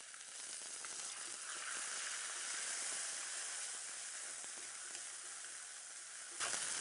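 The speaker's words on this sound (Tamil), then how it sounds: "நம்ம இப்போ இந்த அரைச்ச விழுதை சேர்த்த போகிறோம்." Ground spice paste hits a hot pan for a green banana masiyal and sizzles loudly and steadily, a bright continuous hiss that cuts off abruptly near the end.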